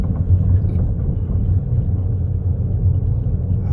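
A truck rolls along a cold street, its low engine rumble steady and fairly close, holding the same heavy drone throughout with no talking.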